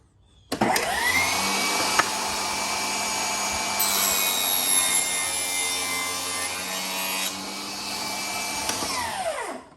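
A cordless saw at a miter workstation cuts through wooden pieces, running steadily for about nine seconds with a high-pitched motor whine and bright harmonic tones. It spins up, holds a sustained cut, then winds down at the end, close and loud.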